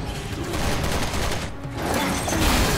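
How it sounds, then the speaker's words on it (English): Rapid shotgun blasts in Resident Evil 6 during a final boss fight, loud and continuous with dense overlapping booms and a brief dip midway. "I got infinite shotgun."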